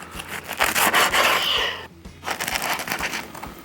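A knife saws through a large, crispy pressed Cuban sandwich, giving crunchy, rasping scrapes in short strokes, close and fairly loud with a brief pause midway.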